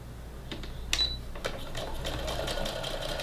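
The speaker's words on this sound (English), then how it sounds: "we're going to sew right along this curve" Sewing machine stitching a half-inch curved seam on a fabric face mask, a steady close mechanical whir with a few sharp clicks near the start and no talking.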